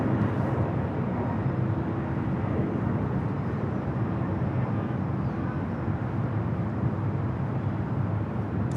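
A Delta 767-300ER from JFK makes a north side arrival at LAX, heard as a steady, broad jet roar that stays loud and even throughout with no voices.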